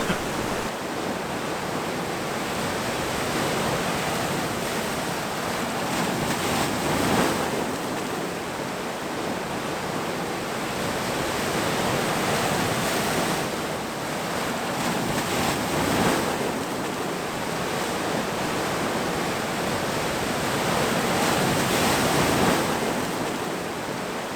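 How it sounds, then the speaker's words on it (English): Ocean waves surge and crash on rocks in Madeira in a steady, loud roar, with heavier breakers swelling every several seconds under constant wind noise. "the waves crashed less violently"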